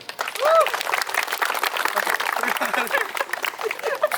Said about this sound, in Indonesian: Aplaus buat mereka.